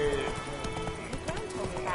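Roach, a horse in the video game The Witcher 3, trots along with steady, rhythmic hoof clip-clops. A voice speaks over the hoofbeats, and game sounds fill the background.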